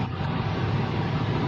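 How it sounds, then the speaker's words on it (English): A heavy garbage truck rumbles past outdoors, a steady low engine drone with broadband road noise that stays loud and even throughout, with no talking. "I just heard it sound like a garbage truck went by"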